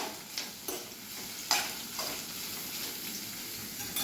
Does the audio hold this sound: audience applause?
no